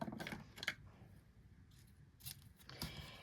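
Scissors cutting a section of cantaloupe ribbon for a Stampin Up papercraft: several quick, faint snips in short clusters, close and quiet.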